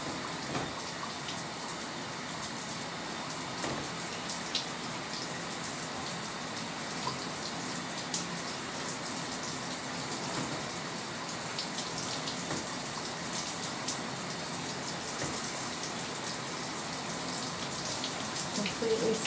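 Continuous rushing shower water pouring over curly hair and splashing, steady and close throughout, with no talking.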